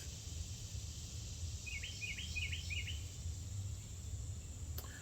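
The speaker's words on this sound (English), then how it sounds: "You hear them cicada bugs?" Cicadas keep up a constant high, thin buzz in the background on a porch while a few quick bird chirps sound faintly in the middle.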